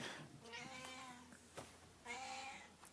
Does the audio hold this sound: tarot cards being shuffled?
no